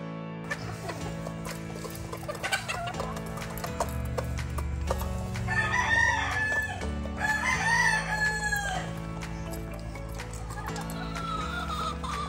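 Brood hens cluck steadily while a rooster crows in two clear bouts, with horse-like clip-clop noises underneath, all in a busy game-farm yard.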